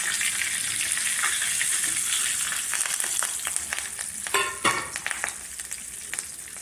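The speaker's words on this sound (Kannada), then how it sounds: "ಇದೆಲ್ಲ ಸ್ವಲ್ಪ ಚಟಪಟ ಅಂತ ಸಿಡಿಲಿ." Mustard seeds, lentils and curry leaves splutter in two spoons of hot oil in a small pan, a steady close sizzle with rapid irregular popping and crackling bursts, and no speech.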